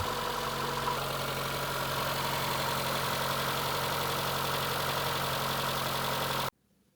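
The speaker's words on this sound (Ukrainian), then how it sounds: "Помітив, що є якась незвична вібрація генератора і ось тут, наче вихлопні гази." A ZAZ Sens car engine idles steadily with an unusual alternator vibration, a constant close mechanical hum and buzz that runs evenly for over six seconds and then cuts off abruptly into near silence.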